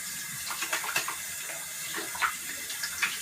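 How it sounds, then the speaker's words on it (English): Running water from a sink tap splashes over washing hands, soft and close with irregular splatters and small gushes as the hands move under the stream; no one speaks. "Now I'm going to wash my hands since our work is done."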